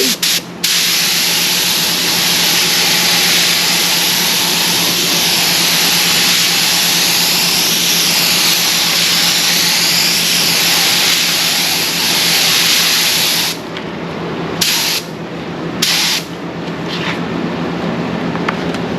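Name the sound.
spray gun spraying gelcoat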